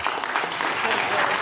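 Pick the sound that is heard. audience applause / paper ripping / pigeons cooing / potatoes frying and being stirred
audience applause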